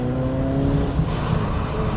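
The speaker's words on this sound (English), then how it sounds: "Engine responds absolutely instantly, really keen to rev." A Peugeot 205 GTI 1.6 engine revs loudly and steadily up close, a rising mechanical drone with no voices.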